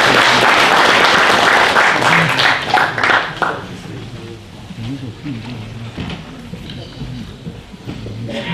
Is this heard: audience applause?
yes